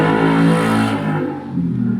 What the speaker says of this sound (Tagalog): Grabe namang motor yan. Ang ingay.